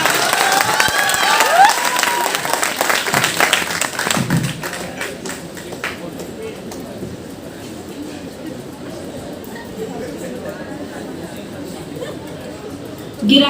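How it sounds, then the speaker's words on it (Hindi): Loud applause with scattered taps and crowd chatter at an open mic event, strongest in the first few seconds before fading to a murmuring audience with occasional claps. "एक बार जोरदार तालियां होगा"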